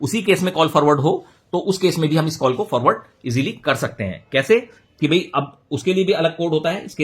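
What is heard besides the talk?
No distinct noise like a dog, phone or traffic.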